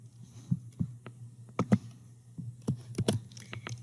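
Typing on a computer keyboard, a quiet irregular run of light key clicks over a low steady hum, close and faint.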